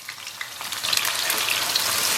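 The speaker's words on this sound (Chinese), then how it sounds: "油温3趁热啊，咱们把洋葱给它放里边。" Onions sizzle in a wok of hot oil while cooking for a braised beef noodle dish, a dense, steady crackling hiss that grows a little louder, with no voices.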